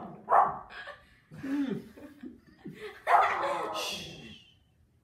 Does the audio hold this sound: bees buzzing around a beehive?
no